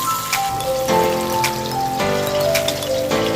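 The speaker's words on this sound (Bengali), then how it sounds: "দেখো, আমরা এবার আলুটাকে ফ্রাই করে নিয়েছি" Potato pieces fry in hot oil in a pan for a Bengali hilsa fish curry with brinjal, a dense, steady sizzle with crackling pops running throughout.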